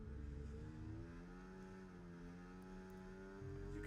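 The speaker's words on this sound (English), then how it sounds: "You can just hear the throttle work that's going on this car." Race car engine under constant throttle in a Can-Am racing video game at the Emilia Romagna Grand Prix, a steady droning tone that rises slightly in pitch, loud and continuous without talk.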